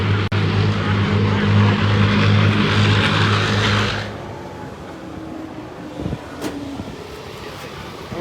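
A small block ProCharger drag race car makes a pass at Summit Motorsports Park during NMCA racing, a loud droning engine roar with a steady tone that cuts off abruptly after about four seconds, leaving quieter ambient noise and faint voices.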